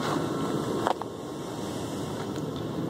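A truck idles outside after dark, a steady low rumbling drone at some distance with a brief knock partway through, otherwise unbroken.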